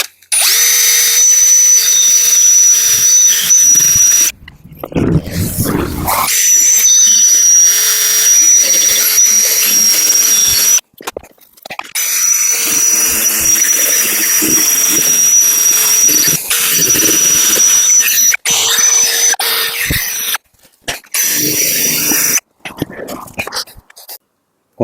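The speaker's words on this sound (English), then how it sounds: "I'm just going to use the little lamb's wool buff on the end of the drill" A power drill spins a small lamb's wool buffing pad to polish a headlight on a Rover 75. The loud whirring whine runs in long bursts with brief pauses between them.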